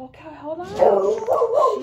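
A pet dog gives a rising, whiny yelp followed by short yips and whimpers, close by, as a person starts talking over it.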